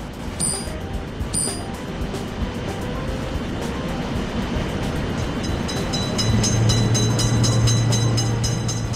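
A train rolls past a road crossing with gates for cars, a steady loud rumble of wheels and cars that swells toward the end, with faint high signal tones early on.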